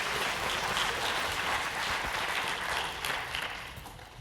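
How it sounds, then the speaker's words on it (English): A live audience at a symposium event claps steadily in a dense, even wash of applause that holds at a constant level for about four seconds, with no voices over it. "Let's give her a big round of applause."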